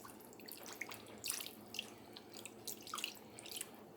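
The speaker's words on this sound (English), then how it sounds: "Just gonna put water in there." Water being poured into a container while preparing chicken broth with bouillon for freeze drying, heard as close, faint splashing and dripping in irregular bursts, with no talking.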